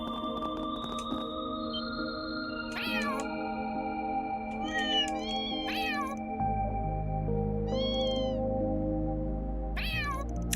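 Several cat meows inside the video game Trails through Daybreak II, sounding as short rising-falling cries at irregular intervals over a sustained musical background, with no one speaking.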